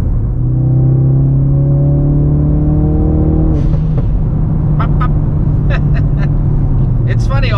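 A Ford Focus RS engine revs and rumbles, rising and falling through a fairly deep, not very loud growl, with sharp pops and clicks crackling near the end.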